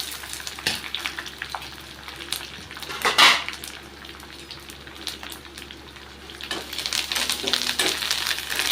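Spices and curry leaves fry in oil for a tamarind rice paste, a continuous sizzle with a metal spoon clinking and scraping against the pan, plus one louder clatter partway through.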